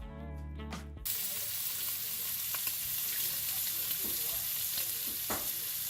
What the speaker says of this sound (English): Let's listen in on the sizzle.